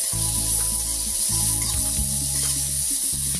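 A large chopped tomato frying and lightly stirred in a pan for a cauliflower curry, a loud constant sizzle with a steady low hum and periodic scraping stir strokes.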